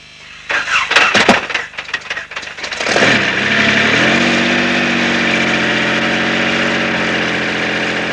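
A car engine cranks with rapid stuttering bursts, catches and roars up, then settles into a steady, loud idle that holds to the end.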